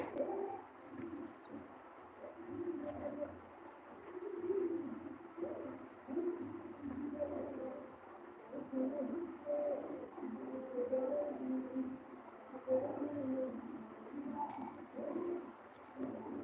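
A flock of pigeons coos in soft, repeated low calls that overlap steadily through the stretch, with a few faint higher chirps and a constant background hiss.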